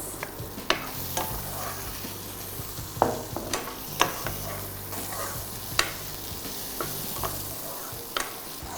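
Vegetables fry in a pan with garlic and butter, giving a soft continuous sizzle punctuated by scattered clicks and taps of a stirring utensil, with no voices.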